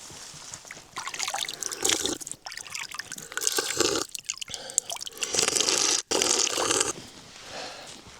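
Spring water flowing up from underground beside a remote off-grid cabin in Lapland, trickling and bubbling close by in a continuous wet gurgle with small splashy surges and brief pauses.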